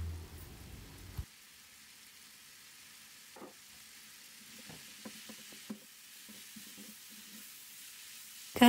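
Kaldirik greens are stirred in a pot, with a short sizzling rush at the start and then scattered soft scraping and clinking strokes, quiet and close with no talk.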